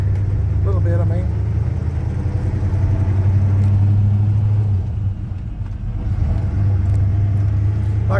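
A 1966 Chevy C10 pickup with a four-speed manual drives along steadily, its deep engine rumble loud and continuous, with brief bits of background voice early on.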